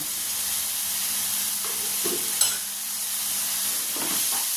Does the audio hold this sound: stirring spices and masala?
yes